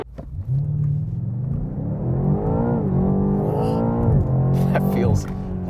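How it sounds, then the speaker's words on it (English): A 2020 BMW M8 Competition accelerates at full throttle, its engine rising in pitch through several gear changes, loud and heard from inside the cabin, with someone talking over it. "So I'm just going to stand on the throttle and we'll see what happens."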